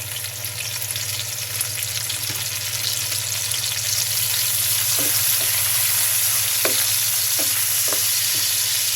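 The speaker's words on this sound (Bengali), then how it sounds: "এখন সব মশলা একে একে কষিয়ে ফেলবো। বাটা পেঁয়াজ দিচ্ছি।" Onion paste fries and sizzles in a pan while spices are cooked down for shrimp biryani. A steady close sizzle runs throughout, with occasional light clicks of stirring toward the end.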